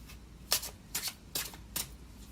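A deck of tarot cards riffled and shuffled by hand, four quick papery bursts in a steady rhythm, close and clear with no talk.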